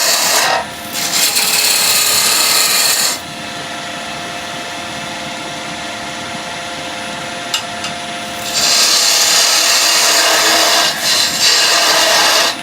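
A wood lathe spins a pen blank while a bowl gouge knocks off its corners, giving a loud, continuous rasping scrape that swells in two long passes with a quieter stretch of hum between.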